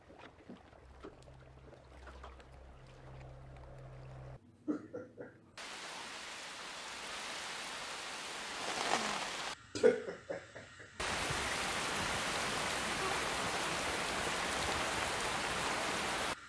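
Rain in the 1998 film The Truman Show pours down as steady hissing downpours that cut in and out abruptly in several bursts, growing loud and heavy toward the end.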